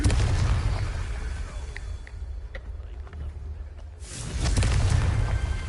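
Confringo fire spell explosions in the video game Hogwarts Legacy, with heavy booming blasts and crackling debris, a quieter lull, then another loud rumbling burst.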